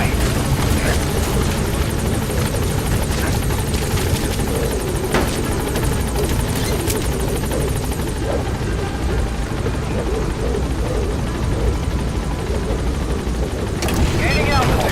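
A helicopter in Metal Gear Solid V lifts off from a landing zone with a loud, continuous rotor thrum and engine roar that fills the whole stretch, while a radio-style voice speaks over it.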